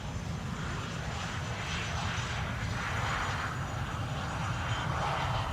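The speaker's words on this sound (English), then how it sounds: "NetJets Cessna Citation Latitude. Arriving from Paris" A NetJets Cessna Citation Latitude business jet landing at Schiphol on the Polderbaan runway 18R, giving a steady, broad engine roar with low rumble that holds constant and fairly loud throughout, with no talking.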